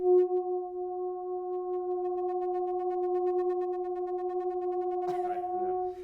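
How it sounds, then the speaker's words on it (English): Heated metal pipes oscillate, producing steady pure sustained tones stacked in several pitches, fairly quiet and constant, with a brief rustling clatter near the end. "You hear that oscillating frequency."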